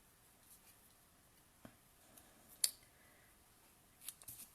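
Paper card is trimmed with scissors for an Easter card, giving a few faint, isolated snips and small clicks over a quiet background.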